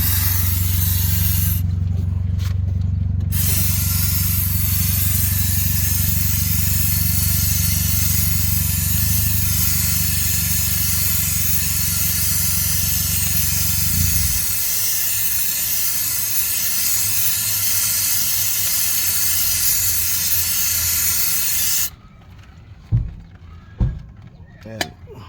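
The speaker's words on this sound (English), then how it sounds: "we're gonna clean with some brake cleaner" Brake cleaner spraying from an aerosol can onto a Ford Fusion 2.0L transmission: a loud, continuous close-up hiss lasting about twenty seconds over a low rumble, then stopping, followed by a few faint knocks.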